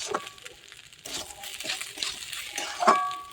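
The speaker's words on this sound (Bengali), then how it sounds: "এটাকে ভালোভাবে নাড়াচাড়া করে নেব।" Close, irregular scraping and clinking of a spatula stirring basanti pulao frying in pure ghee over medium flame, with a bright metallic clink near the end.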